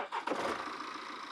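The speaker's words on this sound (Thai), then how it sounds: "ฟังเสียงเครื่องยนต์นิดนึงนะ" A 2016 BMW X3 xDrive20d with a 2.0-litre twin-turbo common-rail diesel starts up: a short cranking burst catches into a quiet, even idle, heard fairly faintly and with no talk.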